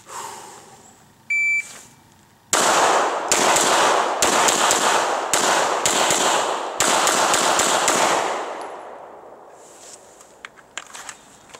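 A shot timer beeps, then an M&P CORE handgun with a red dot sight fires a series of sharp, loud, close pistol shots in deliberate groups during a 1-2-3-4-5 drill, each crack ringing briefly.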